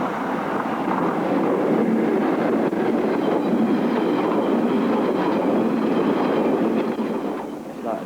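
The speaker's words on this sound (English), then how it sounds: "There's a train coming." A train rumbles through a rail tunnel, a loud, continuous roar of wheels and clattering carriages that holds steady for several seconds before easing slightly at the end, with no voices.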